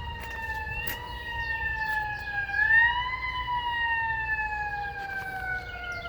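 Emergency vehicle sirens wail in the aftermath of a tornado in Rogers, Arkansas, several overlapping rising and falling tones heard from a distance over low outdoor rumble.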